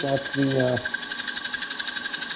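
A power tool whirs steadily over tiger-striped maple, skipping across tear-out with a rapid, rhythmic chatter, a brief voice-like tone at the start.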